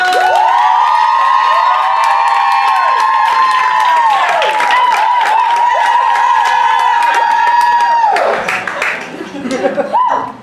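A stand-up comedy audience at a live class show cheers, whoops and applauds loudly and continuously for comedian Tara, the roar easing off near the end.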